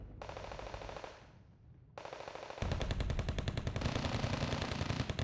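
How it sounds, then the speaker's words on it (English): An M2 Browning machine gun on an LVTP in Wargame: Red Dragon opens up after a short lull, building into loud, sustained rapid automatic fire that rattles on without a break. "M2 Browning machine gun."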